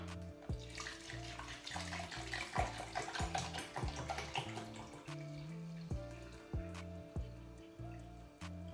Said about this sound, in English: I need to add 1 litre of water